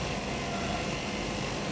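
A Yamato AZ8420 sewing machine with an overheating, noisy motor runs with a steady, rough whirring drone, close and continuous throughout with no talking.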